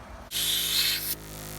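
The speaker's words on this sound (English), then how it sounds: "Let's hook this up to the compressor and watch this bead seat." An air compressor hose blasts a sharp hiss of air into an off-road tire to seat the bead, a loud burst of under a second that abruptly drops back to a quieter background hum.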